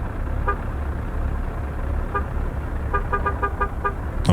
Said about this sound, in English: how does a ship sound?